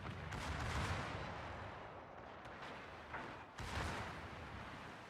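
Naval artillery shells from a German battleship fire in a warship video game, a continuous dense roar of booming blasts and rumble with a sharp break partway through and the barrage resuming, no talk.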